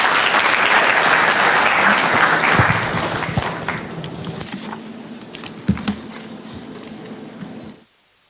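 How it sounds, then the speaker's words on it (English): Loud audience applause in a conference hall at an employers' summit in Nairobi, dense clapping that slowly thins and fades over several seconds, a few scattered claps near the end before it stops abruptly. "Please give her a round of applause."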